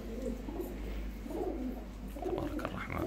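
Afghan pigeons coo softly and repeatedly at close range, low throaty calls rising and falling in a steady rhythm against a quiet background.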